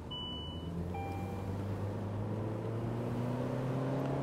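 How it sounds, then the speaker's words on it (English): Steady low engine drone inside a 2009 Saab 9-3 turbo convertible under acceleration, a constant moderate hum with faint whining tones and no talking. "as soon as I push the gas pedal, I can hear the sound of the turbo"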